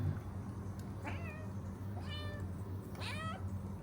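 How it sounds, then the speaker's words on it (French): A cat meows three times, each cry rising and falling, over a steady low hum of background noise, in Morocco. "Il fait que miauler tout le temps."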